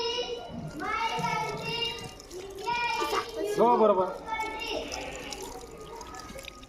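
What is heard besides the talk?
water being poured over hands during handwashing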